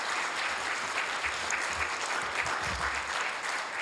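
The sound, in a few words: audience applause at city council meeting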